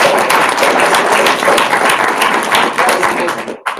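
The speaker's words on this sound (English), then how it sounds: "Yeah, go ahead and clap." Dense, loud audience applause fills a crowded room at a network marketing event, steady throughout before cutting off abruptly at the end.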